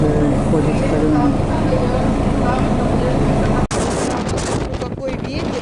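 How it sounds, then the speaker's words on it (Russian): A strong Levante wind from the Sahara blows in Spain, a loud, steady roar buffeting the microphone without letup, with a sharp knock part way through and a voice talking over it. "Какой ветер, видите?"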